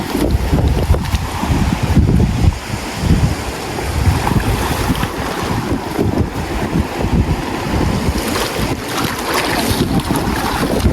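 Waves wash and churn steadily around a moving boat, with gusty wind buffeting the microphone throughout; no voices.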